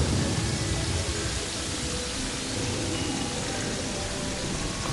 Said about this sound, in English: Why is it already raining?